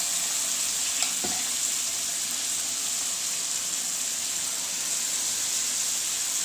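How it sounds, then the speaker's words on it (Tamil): Onion-tomato paste and coconut paste being stirred into fried bitter gourd for pitlai, making a loud, steady close sizzle throughout with a brief clink of a utensil near the start. "ஒன்றா கொட்டி நல்லா கிளறி விட்டுக்கலாம்"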